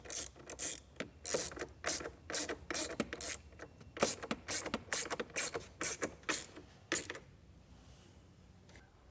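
A ratchet tightening trailer wiring terminals onto posts for a brake controller install, with quick bursts of rapid clicking repeated in short strokes, close and crisp, then stopping near the end.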